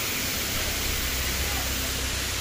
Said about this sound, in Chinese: 哎呀这个瀑布非常壮观呀